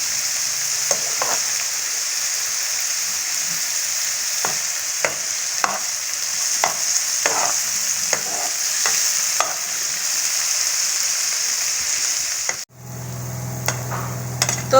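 Onions sizzle steadily in a hot pan with occasional sharp scrapes and clicks of stirring, then the frying stops and a low hum takes over near the end.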